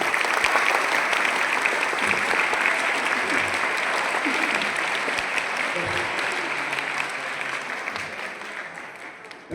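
Applause from a crowd of children at a youth group sermon gathering, dense and steady clapping that slowly fades over nearly ten seconds, with no voices over it.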